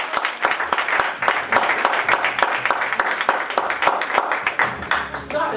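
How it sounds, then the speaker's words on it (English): Congregation in a church service clapping hands in praise, a dense, steady roar of many claps filling the whole stretch, with a voice faintly audible underneath. "Let's give God a hand clap of praise."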